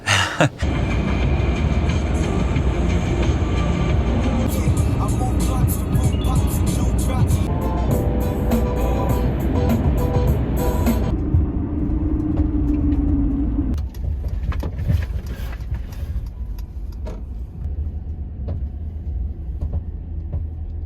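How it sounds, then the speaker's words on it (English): Van cruising along a remote, lonely desert highway, steady broadband road and engine rumble filling the whole stretch, easing slightly toward the end as the vehicle slows. "getting on the road right now, down what in my personal opinion is the loneliest highway in America"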